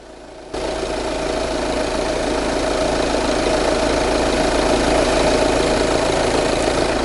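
An Audi A4 car engine starts up and idles with a steady, continuous rumble during diesel particulate filter cleaning, loud and close throughout.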